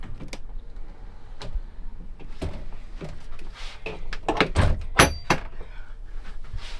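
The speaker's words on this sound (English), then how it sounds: "I'm going to get the door." An RV door being opened, heard as a few sharp thunks and clicks of the latch and panel rising above a quiet indoor background, with one louder knock near the middle.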